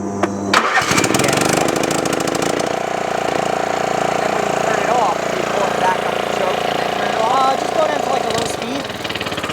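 A Craftsman LT1500 lawn tractor engine cranks and catches, then runs at a loud, steady idle for several seconds while people talk nearby.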